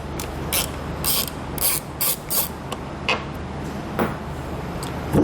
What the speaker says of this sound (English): Now we can grab our Phillips head screwdriver and take out these screws.